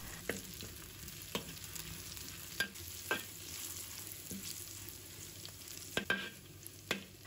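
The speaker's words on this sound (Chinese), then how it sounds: "油热以后，我们放入这些香料，把它炸出香味。" Spices frying gently in hot cooking oil over low heat, a soft steady sizzle with occasional sharp ticks and pops from a spatula or ladle stirring in the pan, fairly quiet and close.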